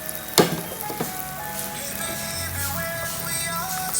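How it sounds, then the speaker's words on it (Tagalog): Onions tipped into a pan of sizzling tuna sisig, a sharp clack at the start, then a steady close crackling sizzle with a few light stirring scrapes, no talking. "Ngayon ilalagay ko na yung sibuyas."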